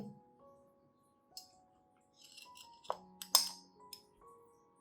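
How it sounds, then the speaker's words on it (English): Clean glass cup set down, producing a few light clinks and taps, quiet and close, with faint ringing tones between the sharper hits. "Prepare a clean glass cup."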